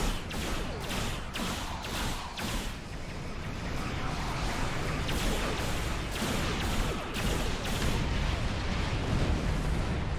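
A starship weapons barrage in Star Trek Online: a sustained, loud roar of repeated booming blasts, with sharp bursts of energy fire at regular intervals over a constant rumbling background.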